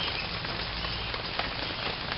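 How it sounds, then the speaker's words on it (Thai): Rain falls steadily in an outdoor area with trees and grass, a dense, even hiss of drops on leaves and surfaces, moderately loud and unbroken, with no talking. "วันนี้ฝนตกนะครับฝนตก"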